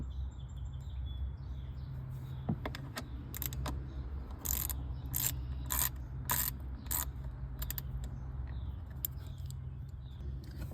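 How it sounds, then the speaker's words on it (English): A screw is backed out with a size 30 driver on the reclining seat of a 2018 Chevy Traverse, giving a run of close, sharp ratcheting clicks in bursts over a steady low hum. "Using the same tool, step 2 is to remove that screw."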